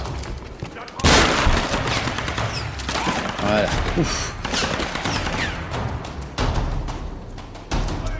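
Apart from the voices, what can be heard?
gunfire in Tomb Raider video game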